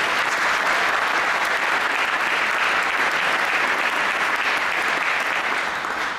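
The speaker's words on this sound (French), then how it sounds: "Je crois qu'on peut aussi applaudir Elisabeth." An audience at the 2013 Laïcité Prize ceremony applauds steadily, a dense, loud wash of clapping sustained without pause throughout.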